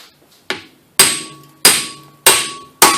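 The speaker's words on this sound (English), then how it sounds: "when you pound on it with a hammer, it pushes it in and it turns it at the same time" Five sharp, loud hammer blows at a steady, slightly uneven pace strike a manual impact driver loosening front brake screws on a 2003-2010 Honda Accord, each ringing metallically before fading.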